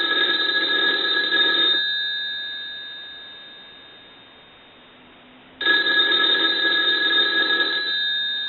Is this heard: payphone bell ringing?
yes